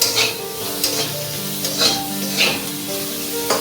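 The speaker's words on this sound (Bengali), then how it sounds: "একটু নরম করে ভেজে নিই, নাহলে কাঁচা থেকে যাবে" Onion and capsicum fry and sizzle in a pan on low flame. Scraping stirs come at fairly regular intervals over the constant crackle, close up, with no voices.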